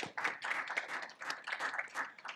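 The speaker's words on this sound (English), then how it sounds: "Another round of applause." Audience applause after a talk on AI tools, steady dense clapping from a crowd filling the whole stretch without pause, moderately loud and fairly close.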